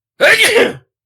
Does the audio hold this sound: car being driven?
no